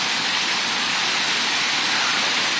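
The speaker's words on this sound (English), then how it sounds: "Oh my God, it is pouring." Heavy rain pours down steadily during a violent thunderstorm in New York City, a dense, continuous roar of water with no break across the whole stretch.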